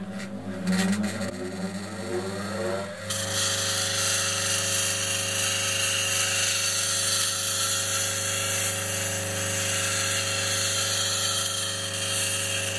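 A power grinder hums steadily with a high whine, while a woodturning gouge pressed against the coarse grinding wheel for sharpening scrapes and rasps for the first few seconds.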